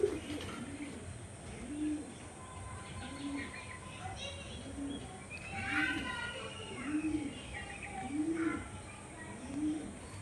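Rare Pakistani pigeons coo in a slow, regular series of soft rolling calls, with quieter chirps and faint background voices nearby.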